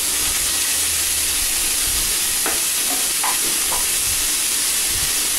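Chopped onion with fennel seeds fries in a pan for a potato curry, giving a steady broadband sizzle and hiss throughout, with a few brief clinks of stirring partway through.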